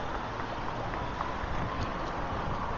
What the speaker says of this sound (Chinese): 看来有点起风了啊，迎着风骑最后一段路，